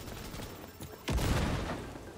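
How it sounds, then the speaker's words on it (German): A burst of gunfire in Cyberpunk 2077 breaks out midway, a loud boom-like blast after a quieter stretch of faint background noise. "Da wird geschossen."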